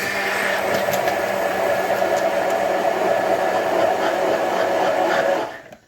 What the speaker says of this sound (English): Then, just using a hand blender, give that a bit of a mix. Sorry for the noise.